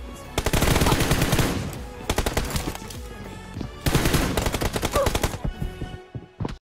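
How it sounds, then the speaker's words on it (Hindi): Rapid bursts of automatic gunfire crackle from a mobile shooter's team deathmatch, two long sustained volleys separated by shorter clusters of shots, loud and close with no talk over them. "जोकर फॉक्स अब भी लेफ्ट साइड में ही फायर कर रहा है"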